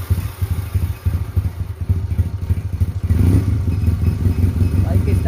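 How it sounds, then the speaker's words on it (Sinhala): A motorcycle engine, running on fuel left in the carburettor bowl, turns over and then runs with a close, loud, uneven thumping idle. "ගලවලා මේකේ බයික් එකේ මෙන්න මේ කාබ්ලේටරේ අඩිය තියෙන පෙට්‍රල් ටික ඒ ටික ඉවර වෙනකන් බයික් එක පොඩ්ඩක් ස්ටාර්ට් කරනවා."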